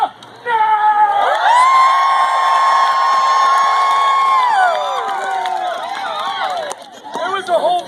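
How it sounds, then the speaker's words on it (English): A live theatre audience at a comic Shakespeare-themed performance erupts in loud, sustained cheering, whooping and hollering, with a long high sustained whoop over dense crowd noise, then settling into a noisier, scattered mix of shouts and clapping. "Go and say, hoot, holler, clap, cheer, stomp your feet, whistle, throw small loved ones into the air, give me Muppet arms."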